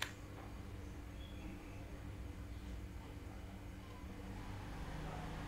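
A low, steady electrical hum from a distant refrigerator drones quietly in an otherwise still room, faint and far off, with no talking.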